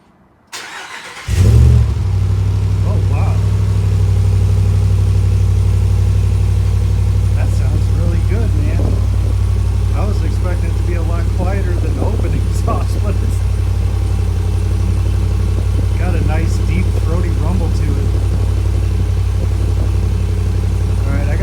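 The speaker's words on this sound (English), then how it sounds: "2020 Ram with the Flowmaster Flow FX American-made muffler." A 2020 Ram pickup with a Flowmaster Flow FX muffler starts with a sharp burst, then settles into a steady, loud, deep exhaust rumble that holds close and constant throughout.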